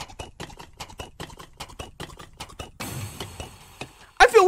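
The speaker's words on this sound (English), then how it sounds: "when they do that horse galloping stuff" Horse galloping sound effect in a horror game, a quick run of evenly spaced hoof thuds, then a burst of noisy rumble and a sharp loud hit at the end.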